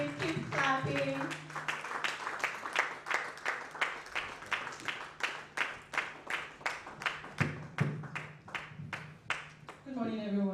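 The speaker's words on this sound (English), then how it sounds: "Please keep clapping, keep clapping." A conference audience at a business of law event claps steadily for about ten seconds, a dense, continuous wash of many hands with a voice speaking over the start and again near the end.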